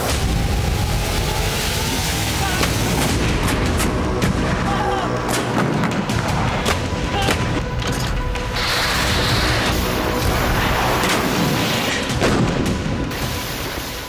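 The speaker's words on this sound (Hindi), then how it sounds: "ताबड़तोड़ मिसाइल फायर" Missile fire and artillery explosions in a war zone, heard as a dense continuous roar of blasts and booms with many sharp overlapping impacts, loud and unbroken throughout.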